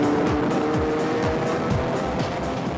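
A homemade race car snarls through a chicane at speed, its engine note rising and falling through quick gear changes over a continuous loud rumble.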